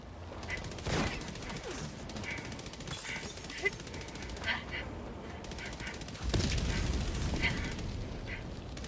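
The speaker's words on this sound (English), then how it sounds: "I don't know what's shooting me." Helldivers 2 gunfire rattles in several bursts amid game noise, with a heavier, louder volley near the end and a voice talking underneath.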